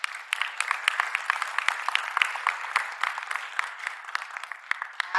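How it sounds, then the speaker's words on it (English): An audience at a theatre performance and talk-back claps in a lively, thick burst of applause, many quick hand strikes blending into a steady patter that lasts several seconds. "Give yourselves a round of applause for being here."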